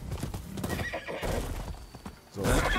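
A horse in the video game Rise of the Ronin gallops with steady clip-clop hoofbeats and lets out a loud whinny near the end, close and clear with no talk over it.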